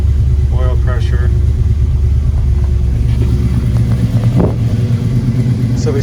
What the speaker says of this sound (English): So we started it up, there's no smoke here. Running clean. Got a nice tone to it.